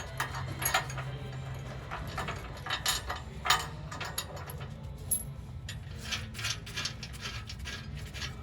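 Ratchet wrench clicking in short, uneven bursts while bolts are worked loose on the rear bumper of a Lexus LX470, close and moderately loud, with scattered metallic clinks between bursts.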